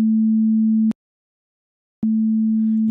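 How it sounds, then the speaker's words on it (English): Two identical low sine waves combined in phase make one steady, pure hum. It plays in two sustained stretches separated by about a second of silence. "So now I'm going to combine two sine waves at 0 degree phase shift."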